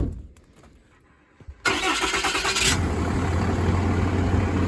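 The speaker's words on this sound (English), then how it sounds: "All right, Kevin, go ahead and start it up, and I'll let them listen to the motor" A Cummins diesel engine in a crane service truck cranks briefly, then fires and catches, settling into a loud, steady rumbling idle up close.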